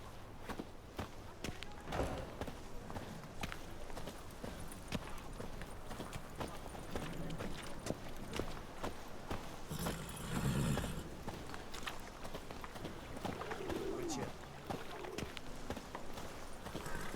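Horse hooves clip-clop at a steady walking rhythm in The Witcher 3, moderately close and fairly faint, with brief talk partway through.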